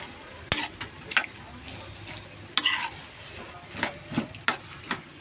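String beans and ground pork stirred in a pan for adobong sitaw: a soft steady sizzle with sharp, irregular scrapes and clacks of the spatula against the pan, close and alone without talk.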